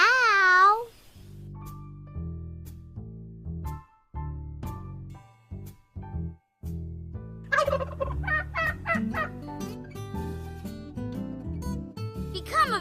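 Rapid, warbling turkey gobbles ring out repeatedly, loud and close, with bursts of gobbling broken by short pauses.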